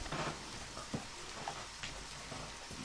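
Soft, steady rain patter in the video game Deadly Premonition, with a few faint scattered taps, quiet and even throughout.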